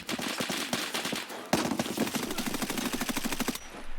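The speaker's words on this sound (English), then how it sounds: "The shots fire." Rapid automatic gunfire in Escape from Tarkov during close PvP near dumpsters, two tight bursts of sharp cracks split by a brief pause, loud and near, then a quieter tail at the end.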